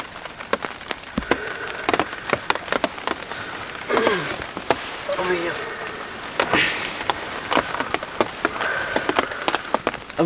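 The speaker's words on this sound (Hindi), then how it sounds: "मेरे को नींद तो नहीं आ रही, बारिश की आवाज़ आ रही है ऊपर से" Rain patters on a bushcraft survival shelter in heavy rain, with scattered sharp drops and taps against the covering, close and steady, while someone speaks quietly at times.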